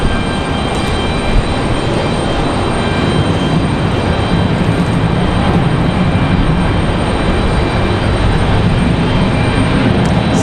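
Airliner touching down on the runway at Raleigh-Durham International Airport, a steady broadband roar of engine and rollout noise heard from a distance, loud and unbroken the whole time.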